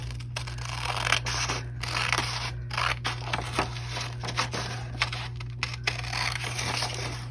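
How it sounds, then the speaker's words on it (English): Scissors snip repeatedly through paper pages from a Little Golden Book along traced lines, crisp close cuts and rustles in an uneven rhythm over a steady low hum. "Take our scissors"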